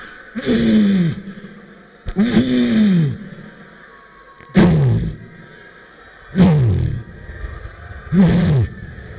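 A man leading a prayer session takes five deep, loud breaths in a slow, regular rhythm close to the microphone, each a long rushing inhalation with a voiced, sighing edge and short pauses between.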